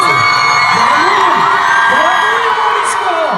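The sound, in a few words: audience applauding and cheering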